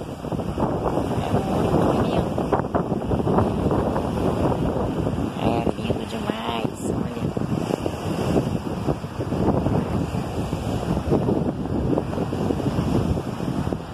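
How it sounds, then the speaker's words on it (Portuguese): Seawater floods a seaside street in Mauá, with waves surging and washing across the pavement under a constant roar of wind buffeting the microphone throughout. "Água do mar invade a rua toda"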